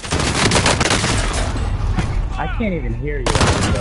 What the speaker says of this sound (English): You see all this gunfire?